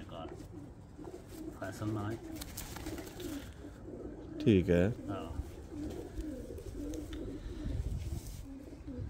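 A Sialkoti golden-type pigeon bred in Bradford, UK, gives soft low coos under background noise, with one louder throaty burst midway; someone speaks briefly.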